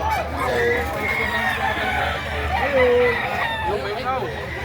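A Sweater gamefowl rooster, three years old and banded, crows repeatedly at a rooster sale in Lipa, Batangas, loud and close, with other roosters and clucking fowl around and people talking in the background.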